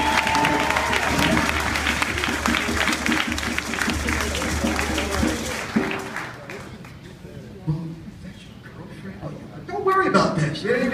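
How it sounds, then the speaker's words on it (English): Audience applause at a closing conference session in Atlanta, a crowd clapping loudly and steadily for several seconds before it drops away, then voices and scattered crowd noise take over. "Let's give her another round of applause."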